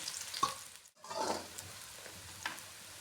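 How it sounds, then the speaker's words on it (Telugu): Sliced onions hitting hot oil in a pan for chicken curry and biryani, giving a short burst of sizzle after a brief pause, then a steady crackle with light clinks. "నూనె బాగా వేడి ఎక్కిన తర్వాత ఉల్లిపాయలు వేసుకోవాలి"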